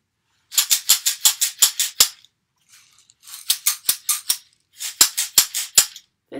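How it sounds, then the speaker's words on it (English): Popcorn kernels rattle in a small shaker container, shaken in three quick bursts of crisp rhythmic clicks with short pauses between, close and alone. "I thought I would try popcorn and see if it sounds different."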